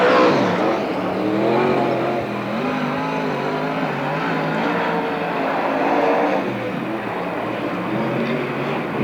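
A sprint car roars continuously around a dirt oval at a 1992 NARC race in Marysville, California, its engine loud and steady with rising and falling pitch, no talk over it.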